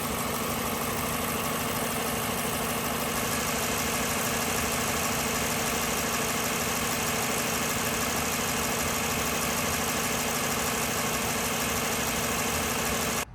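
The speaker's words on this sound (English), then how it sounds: "The car is going to be idling for 10 minutes straight" A 2013 Lexus LS460 engine idles steadily throughout with the coolant cap off, a constant low rumble with a faint high whine, no voices.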